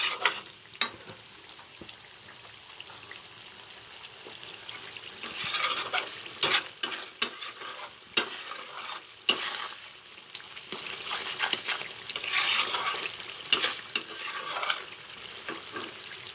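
Malabar spinach is stir-fried in bhetki fish oil, giving a soft background sizzle that is broken by sharp, busy bursts of spatula scraping and clatter against the pan, loudest in the middle and near the end.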